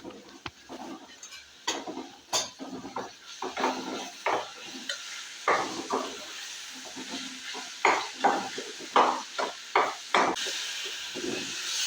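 Spice powders being sautéed and stirred in a pan for egg curry, a low sizzle under frequent close scraping and clinking strokes of a spoon against the pan, irregular in rhythm and moderately loud.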